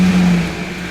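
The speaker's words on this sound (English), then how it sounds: "I'm going to start the car up now" A Holden Jackaroo engine with a new battery fitted runs at a brisk, steady idle, close and loud for about a second with no talking over it.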